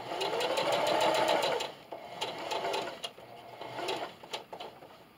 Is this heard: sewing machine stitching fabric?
yes